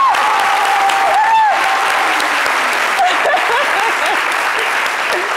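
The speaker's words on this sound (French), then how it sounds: "mais applaudissez un peu." Loud, sustained applause from a French TV studio audience during a midday talk show, dense clapping throughout, with a voice and whistles faintly over it.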